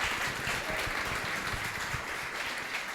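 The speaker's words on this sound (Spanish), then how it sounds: "Démosle un aplauso a Dios de bienvenida a ellos" A church congregation applauding in welcome, sustained dense clapping from many people, fairly loud and even throughout.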